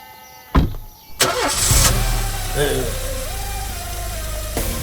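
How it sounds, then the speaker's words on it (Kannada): A car engine cranks on the self-starter and catches, settling into a steady idle. Sharp starting bursts come close up, and voices talk around it. "ಗಾಡಿ ಸೆಲ್ಫ್ ಹೊಡಿ"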